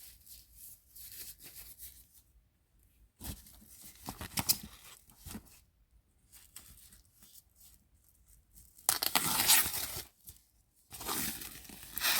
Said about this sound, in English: the unwrapping of the handles is giving the newness vibes